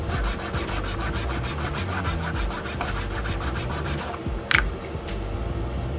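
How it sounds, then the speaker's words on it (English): A steady rasping, scraping grind of a barber's trimmer blade rubbed back and forth, continuous and close, with a brief sharper scrape near the end. "you can hear the blade being grinded and modified as you do it"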